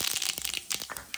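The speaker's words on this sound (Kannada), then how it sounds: "ಈಗ ಸಾಸಿವೆ ಹಾಕೋಣ, ಚೆನ್ನಾಗಿ ಚಿಟ ಅಂತ." Mustard seeds splutter in hot oil, a brief, dense crackle of sharp pops close by.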